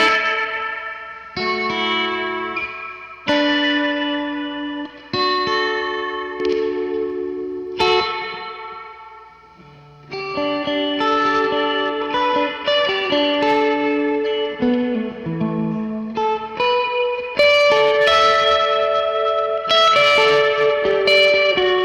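Guitar chords and melodic lines played through a Meris Mercury X reverb pedal dialed for worship tones, with long shimmering, modulated tails swelling and overlapping between phrases; loud, close and continuous, with no talking.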